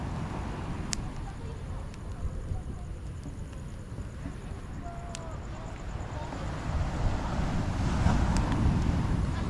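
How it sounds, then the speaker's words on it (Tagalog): Waves crash on a shore in strong wind, a steady close roar of surf and gusts that swells louder toward the end, with faint voices mixed in. "Ang lakas ng hampas ng mga alon."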